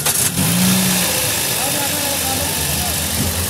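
A used car's engine starts with a short burst and settles into a revving, rumbling idle nearby at an outdoor used car market in Riyadh, Saudi Arabia, while people talk over it.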